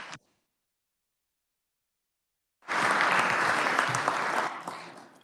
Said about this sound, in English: give them a round of applause too as well